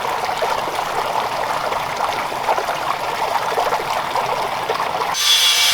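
Water flows steadily into a pit beneath a shed, making a continuous close rushing trickle with no pauses, followed by a brief louder noise at the very end.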